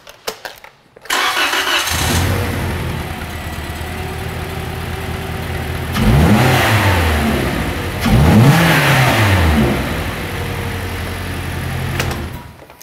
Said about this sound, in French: Puis on va partir le moteur, donner un coup de coups sur la pédale, puis voir comment est-ce qu'il vire au ralenti puis à vitesse.